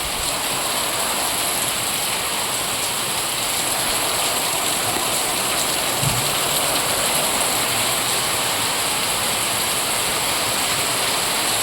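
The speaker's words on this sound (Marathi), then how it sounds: "लय मोठा पाऊस चालू झाला बघा" Heavy first-of-season rain pouring down near a home gallery, a constant dense hiss with no pauses, holding at an even level throughout.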